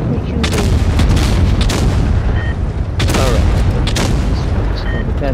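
Tank cannons fire in World of Tanks Blitz, loud booming shots at irregular intervals over a constant rumbling battle bed, with faint voices underneath.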